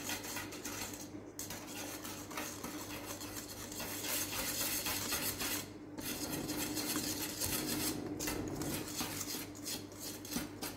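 Puto batter for rice cakes being mixed in a bowl, a steady scraping and rasping of a utensil against the bowl that runs continuously with brief pauses.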